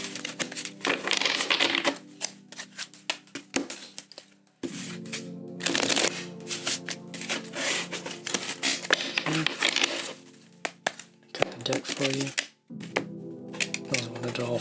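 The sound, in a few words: shuffling tarot cards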